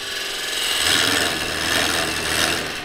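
A knife carves a tenon in green wood against the grain, making a close, rough rasping scrape that swells and fades twice in long strokes.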